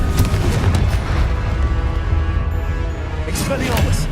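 Confringo spell blasts in the game Hogwarts Legacy, a heavy booming explosion with rumbling low end that swells, eases, and erupts again near the end, with game sound mixed in.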